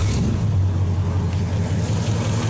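A 1949 Buick straight-eight engine runs at a smooth, steady idle, a low, even rumble held close by with no talking.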